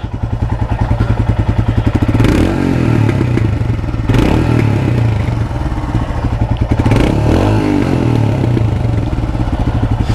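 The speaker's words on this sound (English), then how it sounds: "Exhaust note." A 2017 Royal Enfield Himalayan fuel-injected motorcycle engine thrums with a loud, steady exhaust note, swelling briefly with revs a few times over the running idle.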